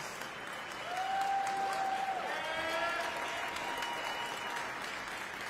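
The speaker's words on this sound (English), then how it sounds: "Please give our keynote speaker another round of applause." Sustained audience applause at a Martin Luther King Jr. Day remembrance event, a steady wash of clapping for several seconds after a keynote, with a whistle rising over it early on.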